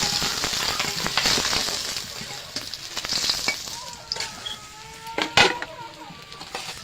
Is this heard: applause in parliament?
no